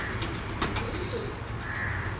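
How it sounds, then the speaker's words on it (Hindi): A breeder pigeon gives soft, low cooing close by, a few murmured notes over a steady background hum. "बड़ा 8 नंबर कबूतर है"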